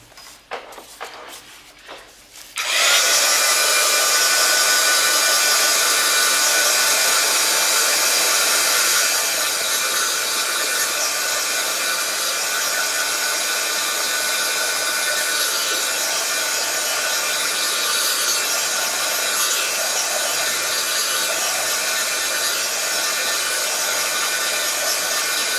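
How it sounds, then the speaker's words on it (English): A hair dryer or craft heat dryer blows on wet paint, a loud steady broadband whoosh that starts abruptly after a few seconds of quiet handling noise and runs continuously, close to the microphone. "I'm going to hit this with a dryer"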